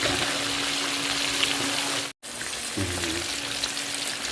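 Tilapia fish pieces deep-frying in hot oil, a loud continuous sizzle with steady crackling bubbles, briefly cut once and then resuming with a faint hum.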